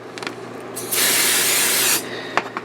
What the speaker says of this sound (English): Spray that on there.